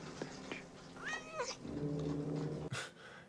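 A cat meows in a scene from the film Alien, with drawn-out rising and falling cries over a steady low hum and soundtrack, followed by a sharp thump near the end.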